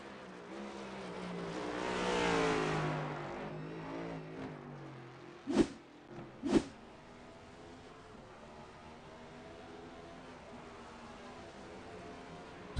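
A race car on the Chicago street race circuit surges in a broad engine swell around two seconds, then fades to a low background rumble, broken by two sharp, loud cracks in quick succession.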